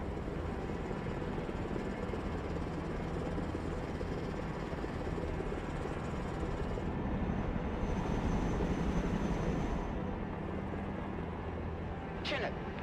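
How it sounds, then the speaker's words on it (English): A Chinook helicopter in the video game Broken Arrow, a steady, dense rotor and turbine drone that holds at an even level, with a brief sharp sweep near the end and a voice speaking over it. "Chinook, standing by."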